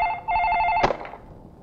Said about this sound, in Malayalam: എന്താ ഫോൺ?